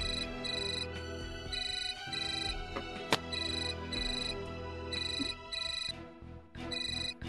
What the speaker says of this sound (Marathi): लाली फोन घे